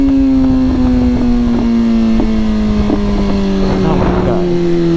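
A motorcycle with a new exhaust, baffles still in, droning loudly under riding with a steady engine tone that slowly falls, broken by irregular crackling pops on the overrun, close and constant.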